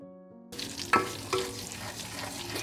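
Fresh mint hits hot oil in a pot and sizzles steadily, with a couple of sharper crackles near the start and a soft frying hiss throughout.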